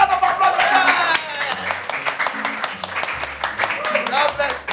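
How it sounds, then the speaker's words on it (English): A graduation audience gives a short round of applause, scattered individual claps sounding close and sharp while people talk and chuckle over them. "So let's put our hands together for them."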